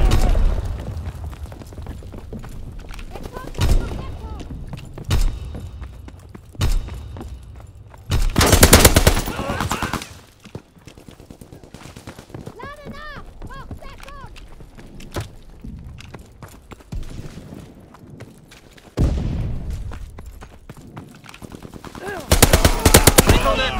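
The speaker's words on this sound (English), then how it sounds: "Sending mortar rounds." Mortar rounds and gunfire in a Call of Duty WWII team deathmatch: bursts of machine-gun fire and heavy booms come in several loud clusters, separated by quieter stretches of scattered shots and footsteps.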